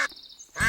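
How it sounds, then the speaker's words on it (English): A single short duck quack sounds from inside an animal carrier in a park, a clear nasal call fairly close, with brief noise just before and after. "Mr. Boyd, I think your suitcase just quacked."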